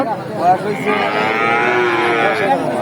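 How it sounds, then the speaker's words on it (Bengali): Holstein-Friesian cattle at the Talgachhi livestock market in Sirajganj, a young heifer among them, moo loudly and close in a long, steady lowing call that fills the few seconds, with market crowd noise underneath and no talk. "কিজিয়ান জাতের গরু"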